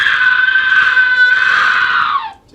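A recorded scream effect for a haunted attraction show: a single sustained, loud, shrill scream lasting about two seconds, then trailing off sharply at the end.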